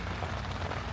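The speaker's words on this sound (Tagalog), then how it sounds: "Panahon ngayon eh. Paulan-ulan." Rain falls at a beach campsite in Lobo, Batangas, in a soft, steady patter on a surface, a brief continuous wash of drops without any voices.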